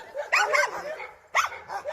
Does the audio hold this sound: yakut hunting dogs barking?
yes